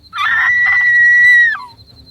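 A sudden scream rings out inside a cave: a single loud, sustained shriek lasting over a second, with a wavering start and an abrupt cutoff, heard alone with no talk.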